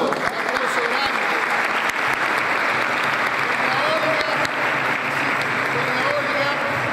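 A crowd applauding at an outdoor patron saint festival in Coronel Moldes, thick continuous clapping with a few sharp individual claps standing out and faint voices mixed in beneath.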